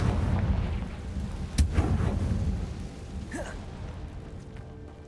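The Confringo blasting spell in Hogwarts Legacy lands as a sharp crack and rumbling burst over low ambient noise, followed by a softer whooshing magical tail as the sound fades.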